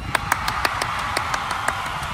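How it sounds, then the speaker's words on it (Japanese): Scattered, steady clapping from a small crowd gathered in the open plaza in front of Himeji Station, a run of sharp, evenly spaced claps at moderate distance with no talk over them. "すごい皆さん拍手してもらってますね"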